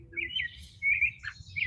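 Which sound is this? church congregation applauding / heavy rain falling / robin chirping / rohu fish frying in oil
robin chirping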